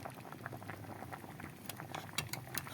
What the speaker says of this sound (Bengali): এগুলোকে একটু ভালো করে সিদ্ধ করে নেব